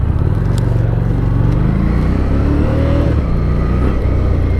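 A Harley-Davidson Street Rod 750 accelerating on the freeway, engine tone climbing through the gears with a loud, close, continuous drone under heavy wind rush.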